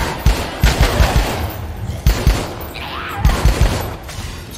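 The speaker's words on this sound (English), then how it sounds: "Grab a gun, Frank." Gunfire in the zombie video game Dead Rising 4: loud, close bursts of rapid shots come in three clusters, with dense crackling between them.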